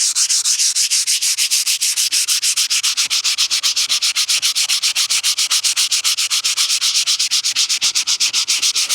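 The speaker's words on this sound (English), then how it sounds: "So I'm gonna take this 80 grit and just go around the entire dash" Someone hand-sands a cracked car dashboard with 80-grit sandpaper, making loud, fast, regular back-and-forth scratching strokes that repeat steadily without pause.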